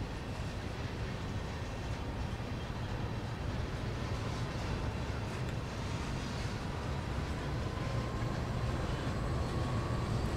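Class 66 freight diesel locomotive in Train Sim World powering up, a steady loud engine drone with rolling rail rumble heard from outside, continuous and unbroken throughout with no talking.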